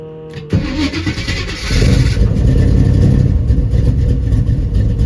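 An old Buick Regal engine cranks briefly, fires up and settles into a loud, rough idle that holds steady close by.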